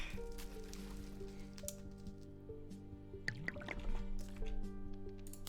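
Liquid being stirred in a game, soft drips and squishy splashes over a quiet sustained tonal background, faint and irregular, without talk.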